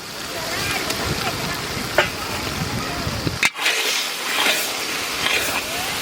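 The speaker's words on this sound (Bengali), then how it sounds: "হ্যাঁ, মশলা প্রায় কষানো হয়ে গেছে" Spice paste for a Bengali village-style chicken curry sizzles and fries steadily in a pan, a continuous broadband hiss with occasional stirring scrapes and a brief sharp clatter midway.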